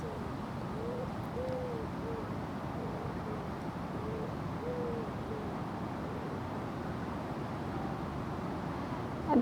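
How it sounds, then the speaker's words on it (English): Repeated soft hooting bird calls, spaced a second or so apart, drifting over a steady wash of wind or surf in an open outdoor setting. "Birds making sounds."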